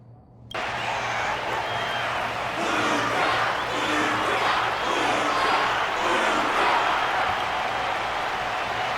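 Steady crowd applause and cheering in Honkai: Star Rail fill the whole stretch, loud and continuous after a brief quiet start, with the roar swelling slightly in places.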